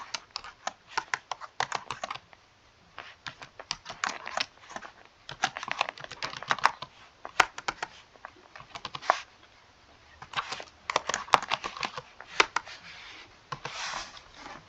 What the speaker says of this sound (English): I'm going to type in what I want.